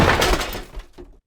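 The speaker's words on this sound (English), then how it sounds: "dropping an object" Glass breaks as a dropped object shatters, a loud bright crash followed by a few smaller tinkling fragments settling and then silence.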